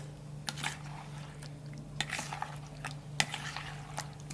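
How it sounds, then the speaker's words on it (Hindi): Frozen tomatoes being mashed into a puree in a home kitchen, giving soft squishing and scraping with sharp utensil clinks against a bowl at irregular intervals, close and fairly quiet over a steady low hum. "चलिए टमाटरों को हमने मैश कर लिया, उसकी प्यूरी तैयार कर ली।"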